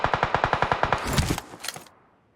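Rapid automatic gunfire in PUBG around Pochinki: a steady burst of about a dozen sharp shots, then a few scattered shots and a fade to quiet.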